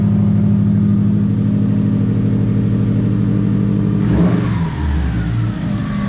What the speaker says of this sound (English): Motor sounds good though